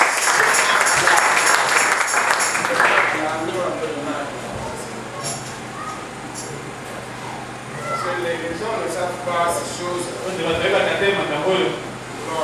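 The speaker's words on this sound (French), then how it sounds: "Applaudissez pour le Seigneur." A congregation at a French-language sermon breaks into loud applause for the Lord, clapping strongly at first before it thins out, with voices and murmuring carrying on beneath and some livelier clapping returning near the end.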